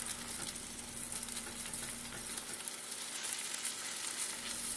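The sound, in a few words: food sizzling while cooking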